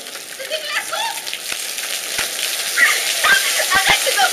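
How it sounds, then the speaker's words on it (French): Heavy hail falls during a storm as a dense, close patter of icy impacts, with sharper individual hailstone strikes popping out. Voices can be heard faintly beneath the clatter. "Des fortes chutes de grêlons."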